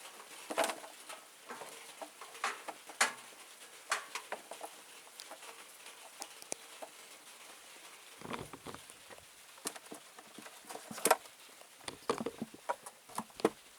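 Light rain pattering irregularly on surfaces close by, scattered soft taps and drips against a quiet background.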